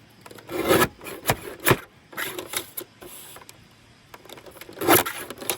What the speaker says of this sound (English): I'm just going to trim some of these edges up.